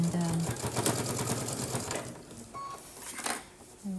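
A sewing machine top stitches around the edge of a key fob wristlet with a normal sewing foot, giving a steady mechanical running patter at close range with a few short pauses and brief clicks, no voices.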